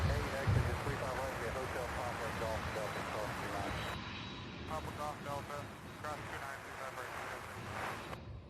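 An airliner on the flight from Spokane, Washington, arriving at Louisville's SDF airport, gives a broad engine rumble with wind noise on the microphone. A voice talks over it throughout.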